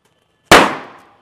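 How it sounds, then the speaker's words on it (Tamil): A Diwali paper firecracker goes off in a single loud, sharp bang that rings out and fades over most of a second, heard alone with nothing else around it. "அடுத்து ஒரு வெடி"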